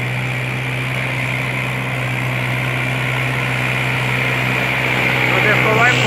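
A Mahindra 575 DI tractor engine runs steadily with a 9-tine cultivator, giving a loud, constant low drone with a strong hum that swells slightly toward the end; no one speaks over it.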